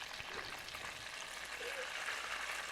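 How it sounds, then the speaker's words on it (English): Soft, steady sizzling of a peanut butter, banana and grape jelly sandwich deep frying in oil, a quiet continuous crackle with no talking. "oil frying up a peanut butter, banana, and grape jelly sandwich"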